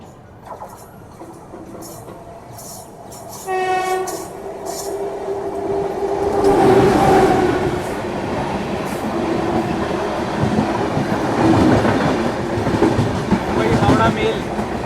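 The Howrah Mail express train passes close by, a loud rising roar with rhythmic clickety-clack of wheels over rail joints, metallic squeals and a brief horn-like tone near the start, heard from a moving train.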